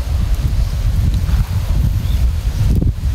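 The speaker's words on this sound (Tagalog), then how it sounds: "Sobrang lakas ng hangin." Strong gusty wind roars across an outdoor microphone in bad weather, a dense continuous rumble that swells and dips without a break, with no voices.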